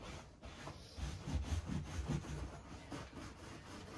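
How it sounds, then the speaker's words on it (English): A microfiber towel works paint into the carpet fibers of a Porsche 924 being built as a safari car, giving a rough, scrubbing rub in uneven strokes that swells and fades, close by and with no talk. "you take a microfiber towel and you work the paint"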